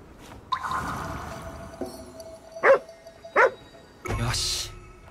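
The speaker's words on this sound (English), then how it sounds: "there's a lot of dogs here, dude." Dogs in Ghostwire Tokyo give two short, sharp barks in quick succession amid game sound effects, with someone talking over them.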